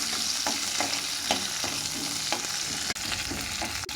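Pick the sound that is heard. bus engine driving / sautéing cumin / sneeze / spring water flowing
sautéing cumin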